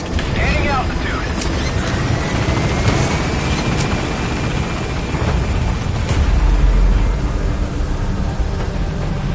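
The B-Quad support helicopter lifts off in Metal Gear Solid V: The Phantom Pain, its rotor and engine roar loud and steady throughout, while voices talk over it.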